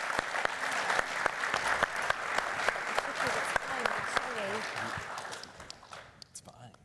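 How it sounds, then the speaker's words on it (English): An audience claps for a conference panel, steady dense applause filling the hall for several seconds before thinning out and fading near the end. "Can we get a round of applause for our incredible panel?"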